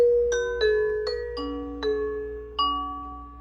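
Ubiquiti G4 Doorbell Pro chime ringing in a business front office and warehouse: a melodic series of about six clear electronic tones stepping through a tune, each ringing and decaying, loud and close with no talk.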